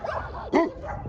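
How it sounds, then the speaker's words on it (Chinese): A dog barks once, loud and close, at a mountain home, with a little yipping around it. The bark is short and alone, with no talk. "叔叔从下面上来了，又开始叫了， 尤其是来财"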